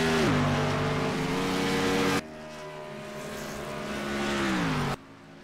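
NASCAR race cars scream past through a turn at Indianapolis, engines whining high then dropping in pitch as each car passes close, with two distinct passes cut sharply apart.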